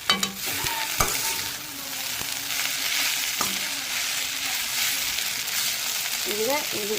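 Dhekiya fern fry cooks in a pan with a steady sizzle and occasional sharp taps and scrapes of a utensil, while a voice talks intermittently over the frying.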